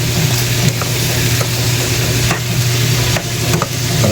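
Pork adobo with pig intestines being stirred in a pan, a steady loud sizzle of frying with scraping stir strokes repeating throughout, no talking.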